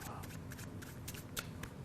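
A deck of playing cards riffle-shuffled by hand, a short crisp burst of flicking cards up close with a few sharper snaps.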